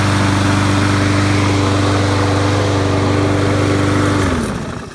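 A rear-wheel drive Husqvarna lawn mower engine roars loud and steady at close range with a constant droning hum, then cuts out near the end and winds down quickly.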